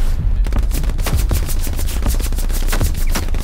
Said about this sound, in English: Their machine gunner was covering the whole field.